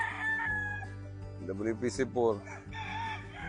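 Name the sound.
rooster (gamefarm stag) crowing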